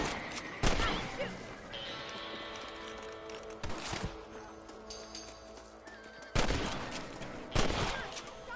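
Gunfire cracks out during a rabbit hunt in the video game Red Dead Redemption: four sharp, loud shots spaced seconds apart, with horse hooves clip-clopping and occasional neighing in between.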